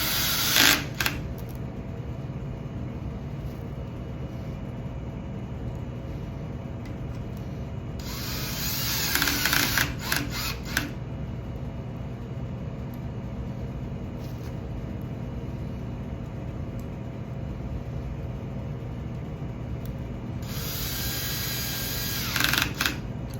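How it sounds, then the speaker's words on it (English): Screws are driven into a cover plate on a high resolution passive profiler for PFAS, with two bursts of power driver whine over a constant mechanical hum, separated by a long steady stretch. "we could go ahead and put our screws in for this plate as well."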